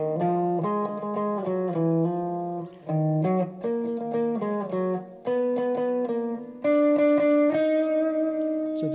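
Lead guitar plays the closing phrase of the Nadie Como Tu intro, a clear melodic line of distinct plucked notes with a few held tones and brief pauses, loud and alone with no talking.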